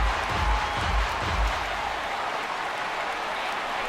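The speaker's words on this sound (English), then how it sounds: "the home crowd is loving it" A Yankee Stadium home crowd cheers in the baseball video game MLB The Show 18, a dense, steady roar of cheering and applause that fills the whole stretch at moderate loudness.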